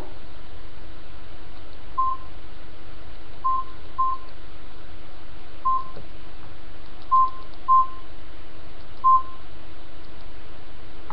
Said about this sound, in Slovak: Počkaj, volám.